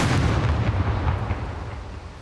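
Gunshots in the survival game SCUM, loud, dense, low-pitched booming fire that fills the whole stretch and eases off slightly toward the end, with no talking.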